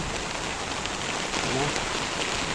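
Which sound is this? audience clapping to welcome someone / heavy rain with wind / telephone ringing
heavy rain with wind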